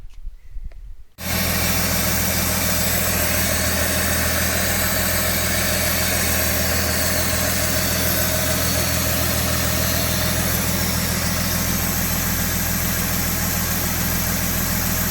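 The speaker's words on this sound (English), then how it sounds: "you're ready to start the engine" A Datsun 280ZX Turbo engine starts after its hydraulic lifters are cleaned, then idles close by with a steady, even rumble and vibration that continues without change for the rest of the clip.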